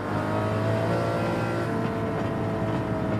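An Aston Martin DBS Superleggera Volante engine drones steadily and loudly with a deep, even hum, holding a constant pitch without distinct revs, and no one speaks.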